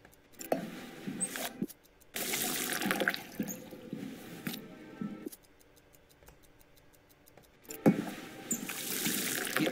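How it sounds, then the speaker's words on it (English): Tap water running into mugs at a sink in the game 12 Minutes, coming in several bursts of splashing flow separated by quieter pauses with faint ticking. "Go to the sink. Fill up the mugs."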